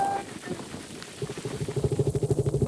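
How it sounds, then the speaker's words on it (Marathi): Heavy monsoon rain falls in Lonavala, a broad steady wash of sound, joined halfway through by a rapid, rhythmic pulsing rumble that grows louder toward the end. "खूप पाऊस आलेला आहे."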